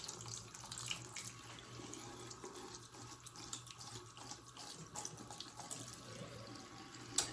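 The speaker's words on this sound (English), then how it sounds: "always make sure you're rinsing your brushes out really, really good" Tap water runs steadily into a sink while makeup brushes are rinsed, giving a continuous close splashing hiss with faint irregular spatters and no voice.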